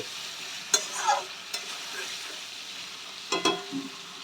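Tomatoes and spices are sautéed in a pan for vegetarian ghugni, giving a soft steady sizzle with a few sharp scrapes of the spatula as the mixture is stirred.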